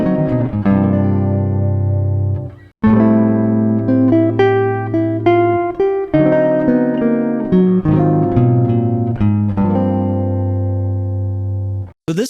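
Electric guitar plays a jazz lick from a solo, a quick run of clear picked single notes with sweep-picked passages, loud and close, with a brief break about a third of the way through and no talk.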